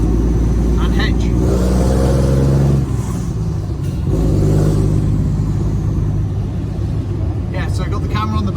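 A Foden truck with a Cummins engine drives along, its exhaust giving a deep steady drone that rises as it accelerates, then settles, while someone speaks over the noise.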